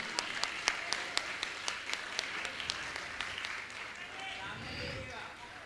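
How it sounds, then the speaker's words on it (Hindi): Audience applause at a Jain gathering with Muni Shri Praman Sagar, a run of sharp distinct claps at first that thin into softer, quieter clapping with a low murmur underneath. "आपकी तालियां लगातार बजती रहें"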